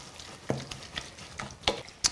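Salt cod brandade being stirred in a pan as oil is added, a few soft wet scrapes and light clicks spaced irregularly, quiet and close, with no talk.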